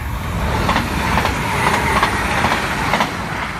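A passenger train rolls past near Sint Joost with a steady, loud rumble and rattling wheels throughout, faint clicks of the rail joints riding on top and no voices.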